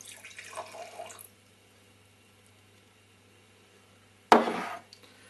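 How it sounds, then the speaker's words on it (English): A drink mixture is poured into a glass in a brief trickling splash. Quiet follows, then a sharp, close splash-like burst that fades quickly. "I'm going to pour that mixture into the glass"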